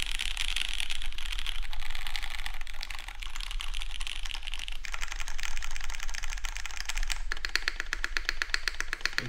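Close, rapid, continuous typing on a GS60 prototype mechanical keyboard with brown switches and a plastic plate: dense clacking keystrokes with brief shifts in pace and no talking.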